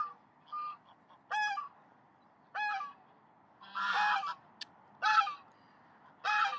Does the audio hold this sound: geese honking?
yes